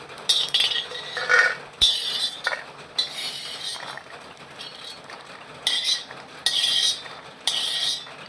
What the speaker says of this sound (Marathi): हे असं भाजून घेतलं की आता ह्याला आपण काढून घेऊया